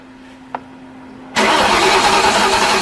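A Factory Five Mk3 replica with a 4.6 engine fires up on its first start. A faint click comes first, then the engine catches abruptly and settles into a loud, steady idle close by.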